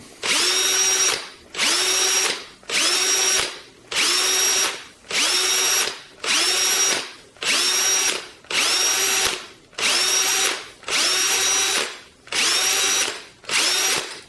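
A Milwaukee M18 18-volt cordless hammer drill whirs loudly in about eleven short bursts, each spinning up, running a second, then stopping abruptly, evenly spaced with brief silences between.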